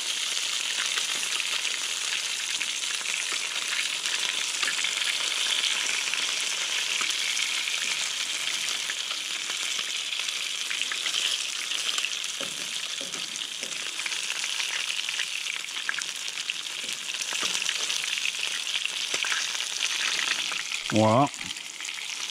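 Trout fries in a pan with a loud, steady, crackling sizzle that holds throughout, with a brief clatter near the end and a single short spoken word over it.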